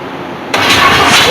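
A 1976 Chevy C20 Squarebody engine cranked briefly with the key, a sudden loud burst of starter and engine noise after a short quiet moment, continuing to the end.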